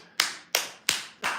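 Four sharp hand claps imitate a jump rope slapping the ground, evenly spaced about a third of a second apart, close and crisp with a quick decay after each.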